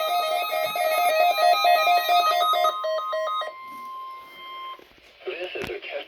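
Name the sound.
weather radio warning alarm during weekly test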